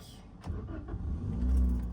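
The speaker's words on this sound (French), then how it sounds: "Écoutez, sans perdre de temps, on va tout de suite démarrer le véhicule." A Toyota Yaris with a 1.33 VVTi 16V petrol engine cranks briefly, catches and settles into a low steady idle that swells slightly, heard faintly from close by with no talking.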